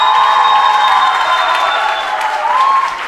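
Audience at a 2018 ISSF Junior World Cup 10m air pistol men's junior final in Suhl, Germany, cheering and applauding steadily for the shooting finalists, a loud continuous crowd roar with clapping throughout.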